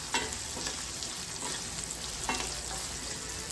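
Mixed vegetables with Kashmiri red chilli powder sizzle steadily in a pan while being stirred, giving a constant close hiss with a couple of scraping strokes and no voices.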